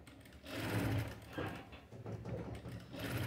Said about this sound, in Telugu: చూడండి ఇలా థ్రెడ్ పక్కనే కుట్టు మళ్ళీ మనం ఇలా వేసుకోవాలి కొంచెం.